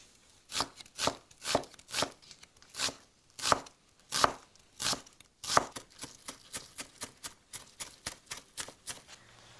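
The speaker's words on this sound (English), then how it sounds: "we're going to finely chop the red onion" A knife chops red onion finely on a cutting board, steady close thuds that start with a slower beat and then speed into a rapid, even run, with no voice.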